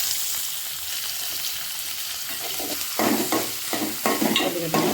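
Tomatoes with curry leaves, chili and garlic frying in a pan for a stuffed eggplant and peanut curry, a soft steady sizzle with louder scraping stirs near the end, no talking.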